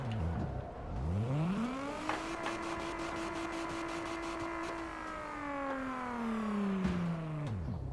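A car in the CarX Drift Racing video game revs and drifts, its engine tone climbing quickly, holding a loud sustained whine, then dropping away, with faint tire noise underneath.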